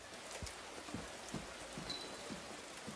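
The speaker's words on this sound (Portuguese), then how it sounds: "Essa chuva atrapalha bastante pra enxergar." Steady rain pours across a dense, foggy outdoor area in the Silent Hill 2 Remake, a continuous hiss of drops with soft, periodic low thuds of footsteps underneath, heard alone at moderate level.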